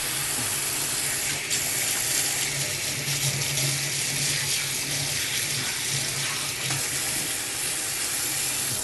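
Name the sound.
running tap water, rinsing hands at the sink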